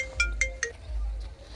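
A mobile phone ringtone chimes three times in a quick bright pattern, fairly close and alone in a quiet room.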